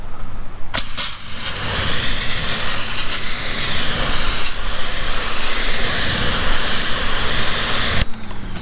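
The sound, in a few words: spraying wheel cleaner on a car wheel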